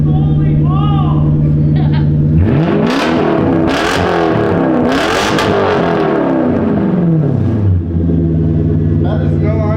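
A straight-piped Lexus SC400 V8 revs hard and loud, its roar climbing and falling through several sweeping pulls over a steady idle, with excited voices calling out around it.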